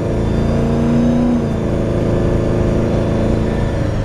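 A 1968 Chevelle with fuel injection pulls hard along a residential road, its engine note a steady, loud, dense rumble heard from inside the car, with a brief rising tone early on before settling into a continuous drone.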